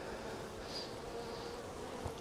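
Honey bees swarm around an opened hive being split in spring, with drones among them, making a soft, steady, continuous buzz at low volume.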